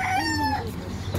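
A rooster crows once, close and clear in the early morning, its drawn-out call falling in pitch over a low background hum.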